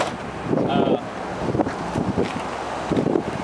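Wind gusts buffet the microphone outdoors beside a 1999 Winnebago Adventurer 35C motorhome, a steady rumbling roar with a few louder bursts, while a voice speaks faintly underneath.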